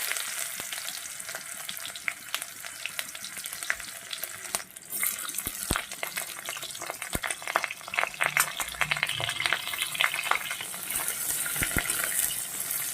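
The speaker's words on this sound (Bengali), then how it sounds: "দিয়ে দেবো একটু পেঁয়াজ" Onions fry in a pan with a continuous crackling sizzle, punctuated by sharp clinks and scrapes of a utensil stirring against metal, steady and close, with no talking.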